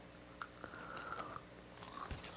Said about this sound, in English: I don't know if you guys can hear that, but it does have a nice crunch.